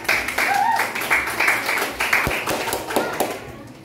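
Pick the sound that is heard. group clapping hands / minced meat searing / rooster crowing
group clapping hands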